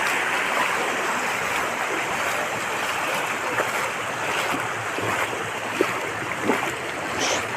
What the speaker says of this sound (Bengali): জলের শব্দটা খালি দেখো, কি আর শব্দ ডাকিয়ে গিয়ে নামে